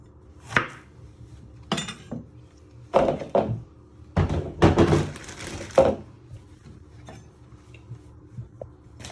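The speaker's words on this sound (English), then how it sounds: "You're first going to chop your ends off." A knife chops the ends off a courgette on a board, a handful of sharp, close thunks spaced irregularly with quiet gaps between them, no talking.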